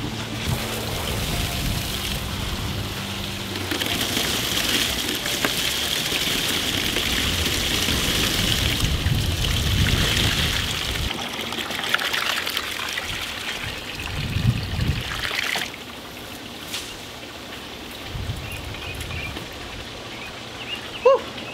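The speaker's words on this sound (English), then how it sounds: "So let's fill this bad boy up, let's put some water in there" Water from a plugged-in pump trickles and splashes steadily into a small Halloween mini pond with fish, a close continuous stream that thins and quietens after the midpoint.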